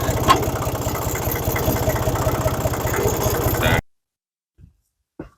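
Old tractor engine idling and running steadily up close with a fast low throb for nearly four seconds, then cutting off abruptly, followed by a couple of faint brief knocks in near silence.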